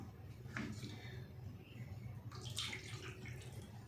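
Water is poured into a besan (gram flour) mixture while making halwa, giving a soft, steady pouring trickle close by with no talking.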